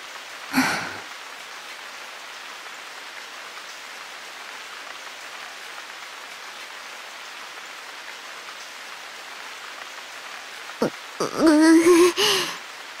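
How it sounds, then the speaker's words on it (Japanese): Rain falling in the Sword Art Online Hollow Fragment game, a soft, steady hiss of drops heard alone across the scene, with a brief sigh-like voice near the start and another short vocal sound at the end. "あとは雨が上がるのを待つだけかな。"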